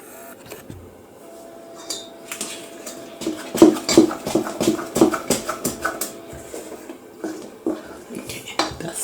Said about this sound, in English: And we'll keep on stirring.